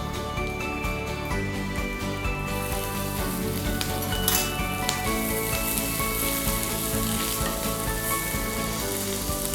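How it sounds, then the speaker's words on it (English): Chili powder and chopped green chili sauté in a hot pan for gatte ka pulao, giving a loud, steady sizzle that swells partway through, close up with no speech. "Saute for 2 minutes and then put some onion chop."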